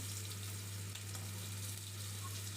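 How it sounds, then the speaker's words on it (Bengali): Pieces of stale fish sizzle in hot oil in a wok, a faint steady frying hiss over a low hum. "একটু কড়াইয়ে একটু তেলে তেল গরম করে নেড়ে নিচ্ছি"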